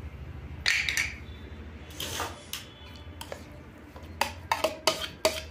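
Ridge gourd and onion chutney stirred in a bowl, with scattered clinks and scrapes of a spoon against the dish, moderately close and without any talk.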